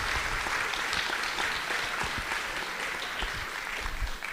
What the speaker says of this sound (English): let's give our online family a round of applause